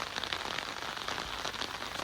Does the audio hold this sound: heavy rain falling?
yes